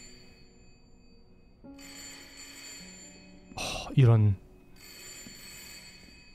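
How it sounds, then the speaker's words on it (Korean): Telephone ringing in the horror video game Layers of Fear: bursts of electric ringing that repeat with pauses between, mixed with eerie tones and a loud crash, and a person speaks briefly. "전화 소리."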